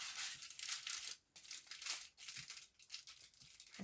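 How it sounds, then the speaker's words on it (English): Aluminum foil crinkles and rustles up close in short, uneven bursts as it is grabbed and handled for home hair highlighting, with a few brief quiet gaps between the crackles. "grab your foil"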